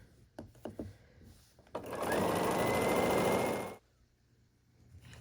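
A sewing machine stitches quilt sashing for a 16-patch baby quilt top in one steady, loud run of about two seconds. A few soft handling clicks come before it and quiet follows.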